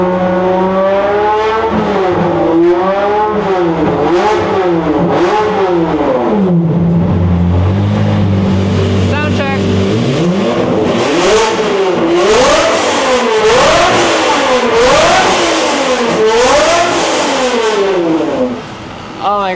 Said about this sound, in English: now it sounds like a Ferrari